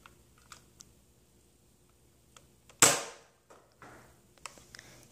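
A Nerf Retaliator blaster fires once with a sharp, loud snap and short spring-and-plunger rattle, followed by faint mechanical clicks of priming and handling in an otherwise quiet room.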